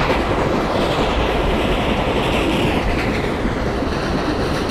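In Indian Train Simulator, a WDM-3 diesel locomotive hauls an express train past, a loud rumbling roar of engine and wheels on rails that swells and holds steady throughout, with no talk.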